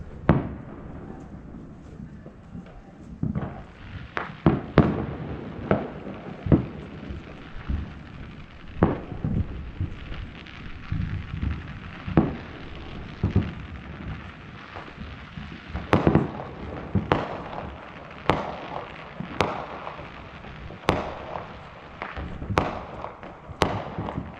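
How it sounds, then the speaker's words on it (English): Fourth of July fireworks burst over Boise in a long series of distant booms, pops and crackles, some louder thuds among softer echoing bursts against a quiet night background. "I love counting how long between when you see a firework and you hear it."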